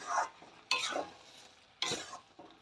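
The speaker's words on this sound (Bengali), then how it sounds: "এবার আমি কষতে দেব" Moong dal with ridge gourd and potato being stirred and sautéed in a pan, giving three distinct scraping strokes with light sizzle between them, close and fairly quiet, with no voices.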